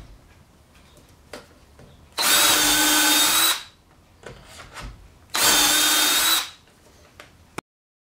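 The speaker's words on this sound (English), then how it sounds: "I'm going to focus in the next segment on me actually drilling the holes" A power drill whirs loudly through wood of a hidden bookcase door in two long bursts of about a second and a half each, separated by quieter handling noises.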